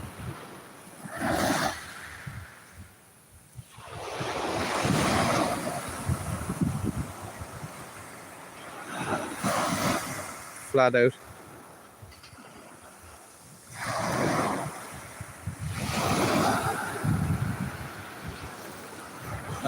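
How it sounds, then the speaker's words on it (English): Sea waves surge and wash at the water's edge in repeated swells, loud and rushing with wind buffeting the microphone, separated by quieter lulls; a brief spoken phrase cuts in midway. "pardon if you can't hear me there with the sea"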